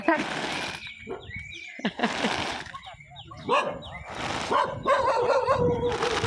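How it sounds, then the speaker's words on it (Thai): A dog barks and yips repeatedly outdoors, loud and close, mixed with someone speaking and calling over it. "ไม่ต้องเห่ามาดี ไม่ต้องเห่า"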